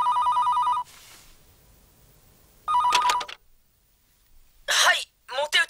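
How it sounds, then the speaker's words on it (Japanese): A telephone rings in an anime scene with a shrill electronic warble, two separate bursts with a pause between them, followed by brief vocal sounds such as a cough or a cleared throat. "おい、太田、電話だぞ。"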